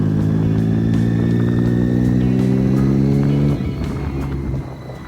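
A Triumph Daytona 675 motorcycle on its stock exhaust idles loud and close with a steady low burble, then the engine note drops and roughens near the end, alone with no talk.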